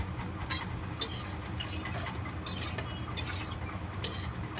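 Ridge gourd and crisp fried onions are sautéed in oil in a pan, a continuous hissing sizzle overlaid with rhythmic scraping strokes of a spoon every second or so.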